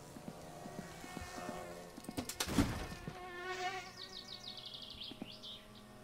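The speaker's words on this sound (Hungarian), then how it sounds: "én darás hangot hallottam" Close wasp buzzing from the video game My Summer Car: a quiet, droning hum with wavering pitch, broken by a few sharp clicks and thumps, and no talk over it.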